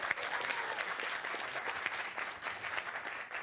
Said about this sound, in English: let's give a cheer for the South City Warriors